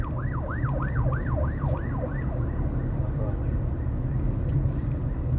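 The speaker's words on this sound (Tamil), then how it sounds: "ஆம்புலன்ஸ் வருது." An ambulance siren wails on a street, a fast rising-and-falling yelp that fades after a few seconds beneath steady traffic rumble and nearby talk.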